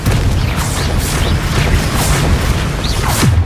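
Bombarda and Confringo spell blasts in Hogwarts Legacy, a continuous loud barrage of booming explosions and whooshing spell effects with no pause, dense and close.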